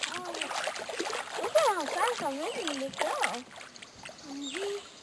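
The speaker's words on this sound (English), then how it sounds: "splashing at each other." Boys splashing water at each other while paddling a canoe on the Neches River in Texas, the splashes scattered and close, mixed with chattering children's voices throughout.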